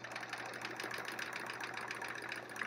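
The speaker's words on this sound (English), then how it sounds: "So I'm just stitching in the ditch basically, but I'm using this ruler to help me." A sewing machine stitches in the ditch along a ruler while free-motion quilting a sampler quilt, giving a steady, rapid mechanical whir and patter throughout at a moderate, close level.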